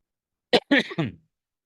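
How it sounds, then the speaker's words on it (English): A single dry cough followed by a couple of rougher throat-clearing bursts, close and isolated against silence. "I'm sorry for this cough."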